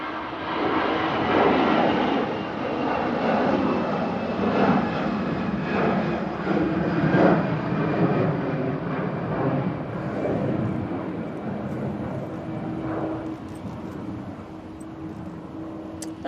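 Airliner departing Manchester Airport on a windy day, a broad jet-engine roar that is loud at first and gradually fades as the plane climbs away, with no talking.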